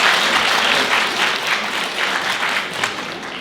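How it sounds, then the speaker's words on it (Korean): Applause welcoming a speaker at a university admissions information session, a dense, loud, sustained clapping from a large audience, fading slightly toward the end. "박수로, 환영의 박수로 맞이해 주시기 바랍니다"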